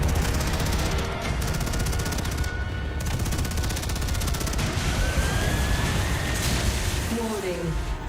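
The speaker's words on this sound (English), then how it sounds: "Gunfire everywhere." Dense bursts of rapid gunfire and explosions from the video game StarCraft II: Heart of the Swarm fill the scene continuously, loud and close, with a rising whine and electronic tones near the end.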